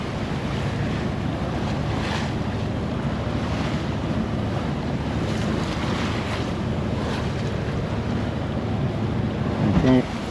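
A motorboat pounds through waves at sea, with constant loud wind buffeting the microphone, rushing water and engine rumble, and periodic heavier thumps as the hull hits waves.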